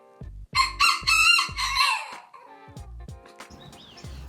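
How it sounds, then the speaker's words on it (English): A pet rooster crowing loudly and close by, one strong drawn-out crow made of several stuttered syllables that tails off into quieter chirps and faint background sounds. "his little crow is so cute"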